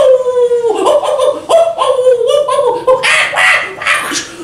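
A storyteller's voice imitates dogs barking and howling during a children's tale about a volcano, with drawn-out wavering howl-like cries and yelps rising over one another, loud and close.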